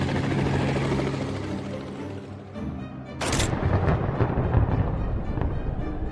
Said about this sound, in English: You want us to deploy a missile helicopter?